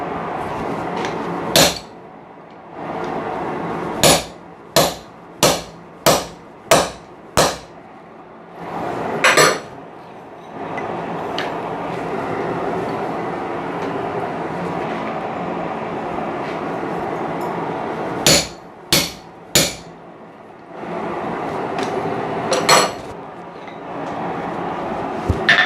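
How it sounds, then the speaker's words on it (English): A blacksmith's hammer drives a lubricated punch through hot steel: about a dozen sharp metallic strikes land in quick bursts, loud and close, over a steady low workshop hum. "Take the punch, dip it in the goo, take the steel, hammer."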